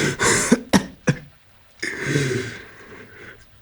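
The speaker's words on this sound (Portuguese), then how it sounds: "Tossia enquanto indagava." Harsh coughing bursts, two or three sharp coughs in quick succession followed by throat clearing, close and alone without speech.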